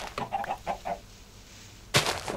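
Chickens in the Minecraft video game cluck in a quick run of short calls, with a louder burst of clucking near the end. The sounds are close and clear, and nobody speaks over them.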